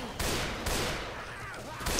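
Dense, continuous gunfire in a Left 4 Dead 2 zombie shootout, a loud unbroken barrage of overlapping shots with brief swells and no pauses across two seconds.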